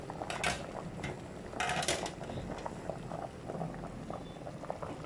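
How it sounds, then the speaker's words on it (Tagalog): A pot of pork sinigang with taro, cabbage and pechay simmers at a steady bubbling boil, with louder bursts of bubbling mixed into a constant low rumble. "Ayan, kumukulo na."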